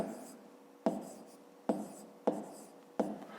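Pen or chalk writing out a math calculation, four sharp taps of the writing tool striking the surface, each followed by a short scratchy stroke, quiet and close.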